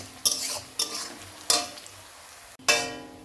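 Chopped green chilies tossed into onions frying in a pan for a small-fish curry with tomato: four sharp sizzling bursts of stirring and scraping, each fading quickly, close and clear with no talk.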